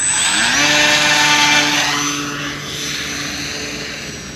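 A small electric RC model plane flying on a HappyModel ExpressLRS receiver, its motor whining loudly close by and then easing back and fading slightly as it passes, with a rising and falling buzzing pitch and no voices.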